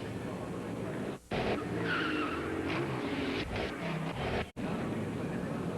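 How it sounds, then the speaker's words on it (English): An open-wheel modified race car spins out at Martinsville Speedway, tires skidding and squealing amid roaring engines in a continuous loud wash of track noise, with crowd or commentary underneath. "There's the 14 sideways. That's Ruggiero. Yep, Ruggiero turned around"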